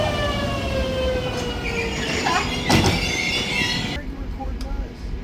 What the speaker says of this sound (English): Because you're on a train.